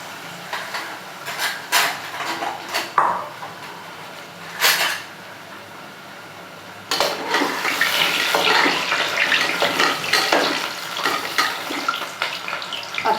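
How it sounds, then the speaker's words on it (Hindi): Medium-sized potato pieces dropped into hot oil, bursts of hissing and sputtering that swell into a continuous loud bubbling fry in the second half, with brief gaps and clatter between. "ऑयल अच्छे से गर्म हो चुका है। आलू डाल देते हैं।"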